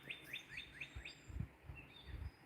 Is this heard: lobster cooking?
no